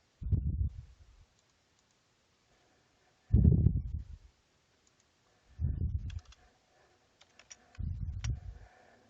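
Typing on a computer keyboard while entering figures into a spreadsheet: four short, close-up clusters of muffled keystrokes separated by pauses of a second or more in a quiet room.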